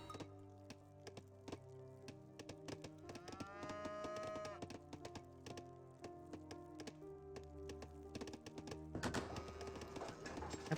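A cow moos in the Age of Empires 3 video game, a drawn-out low call among tapping and chopping game sounds, with a busier burst of effects near the end.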